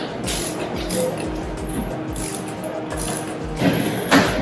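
A torque wrench set to 100 foot-pounds tightens the diaphragm on a metal Wilden air-operated double-diaphragm pump, giving a series of close, sharp ratcheting clicks with metallic clanks and a louder click near the end.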